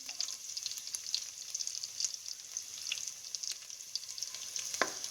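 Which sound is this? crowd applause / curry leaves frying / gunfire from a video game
curry leaves frying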